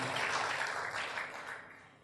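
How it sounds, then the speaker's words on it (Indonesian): A church congregation during a sermon claps together in a brief, soft burst of applause that fades away over about two seconds. "Yang setuju berikan tepuk tangan yang meriah."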